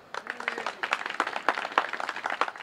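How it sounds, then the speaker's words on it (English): Guests at a ribbon-cutting ceremony for a historical society's archives and research center clap for the staff, a modest group whose separate, uneven hand claps sound close and distinct. "Elizabeth, Stacy and Chris, please give a big round of applause for the staff."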